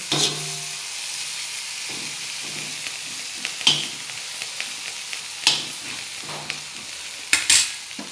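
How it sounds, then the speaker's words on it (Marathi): Chopped garlic and fenugreek leaves stir-fried in a pan for chili garlic methi, with a steady sizzle and scattered scraping strokes of a spatula against the pan, close and alone. "चिरून घ्यायचे लसूण, असं एकदा अजून परतून घ्यायचं।"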